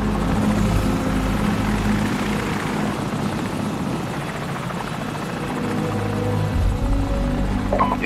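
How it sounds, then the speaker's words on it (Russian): An enemy helicopter flies overhead in Call of Duty Modern Warfare, a loud, continuous rotor drone that holds steady and dominates throughout, with no voices. "Вражеский вертолет, ложись!"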